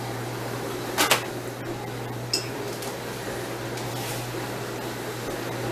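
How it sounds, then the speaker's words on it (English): KitchenAid stand mixer with a dough hook working ground beef for meatloaf, a steady low motor hum running throughout with a couple of brief clinks against the bowl. "I am sticking it in my KitchenAid mixer with the hook"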